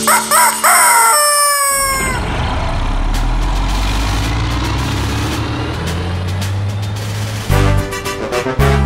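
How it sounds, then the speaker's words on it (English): A rooster's loud crow rings out at the start on a quiet farm, followed by a steady engine rumble like a truck or car driving, which fades into a brief burst of sound near the end. "Bartolito crowed like this."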